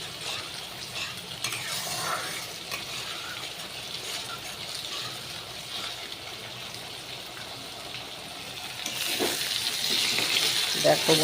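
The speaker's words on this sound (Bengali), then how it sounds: "কচুরমুখী আলুটা ভাজা হচ্ছে।" Taro corms and potatoes frying in oil for a fish curry, a continuous close sizzle and stir that swells louder near the end.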